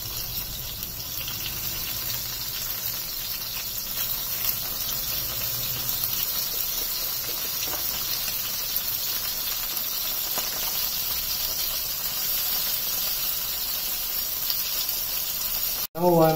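A fish fillet fries steadily in a pan, giving a continuous close sizzle and hiss that holds at an even level throughout, ending with a brief sharp clatter.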